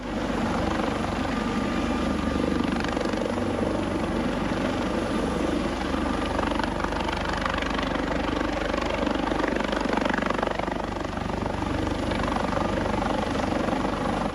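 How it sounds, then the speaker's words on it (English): A coast guard rescue helicopter hovers low at the water's surface in the Second Life virtual world, its rotor and engine a loud, constant, close drone throughout with no talk. "rescue pilot is lowering the helicopter all the way to the surface of the water"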